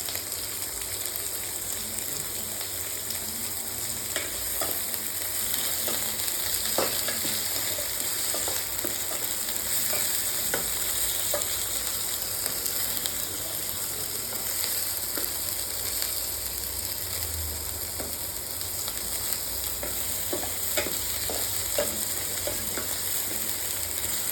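Onions sizzle in a hot pan for chicken gravy, a dense continuous frying hiss with frequent scraping clicks from a ladle stirring, steady and close with no voices.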